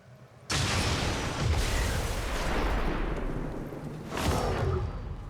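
A car is set off remotely and explodes in the XCOM 2 video game, bursting into a sudden, loud, rumbling roar that sustains for several seconds, then swells again with a second crackling blast near the end.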